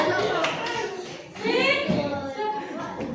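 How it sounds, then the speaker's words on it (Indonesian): Children in a classroom clap for a classmate, a short burst of loose claps mixed with young voices chattering over and around it. "Kita kasih tepuk tangan"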